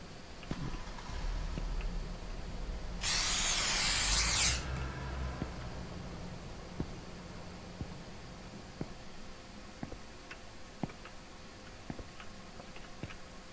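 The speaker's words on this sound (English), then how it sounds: "Okay, I spray them and they disappear." A short, loud aerosol spray burst of about a second and a half in The Convenience Store video game, followed by a steady faint ticking over a low background hum.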